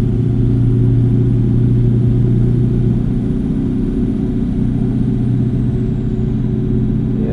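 Truck engine held at full throttle in the American Truck Simulator video game, a loud, steady droning rumble that continues unbroken with no talking.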